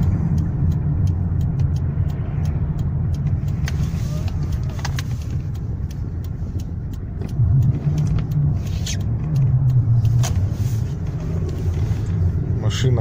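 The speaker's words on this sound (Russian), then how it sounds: "Машина Camry Grazia." A Toyota Camry Gracia with a 2.5-litre 2MZ engine drives steadily in -40 frost, its low continuous engine and road rumble filling the clip with a few clicks and knocks on top.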